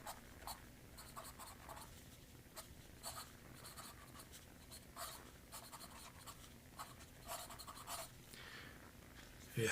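Fountain pen with a number 5 steel nib scratching across paper in quick, steady strokes, close and quiet, with brief pauses between words and no talking.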